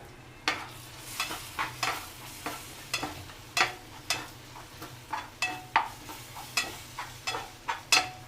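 Coriander powder roasted in a pan for beef ularthiyathu, with repeated sharp scrapes and taps of a spatula against the pan at a brisk, fairly regular pace over a low sizzle, close and alone.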